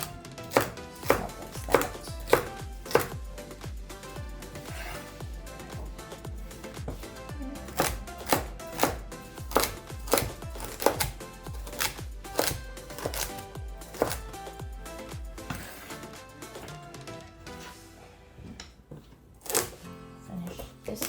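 Knife chopping celery and other stew vegetables on a cutting board, a steady run of sharp, close thuds in quick bursts, pausing between cuts, with a little quiet talk.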